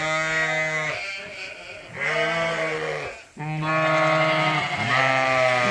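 Sheep on a farm pasture bleat loudly and close, several long wavering calls following one another with brief gaps between them.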